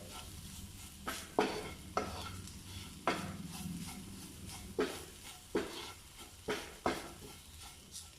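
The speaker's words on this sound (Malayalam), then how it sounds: "ലോ ഫ്ലെയിമിലിട്ട് നമുക്കൊന്ന് വഴറ്റാം" Chili powder sautéed on a low flame for a soya chunk roast, a quiet sizzle broken by regular spatula scrapes and taps against the pan, roughly one every second.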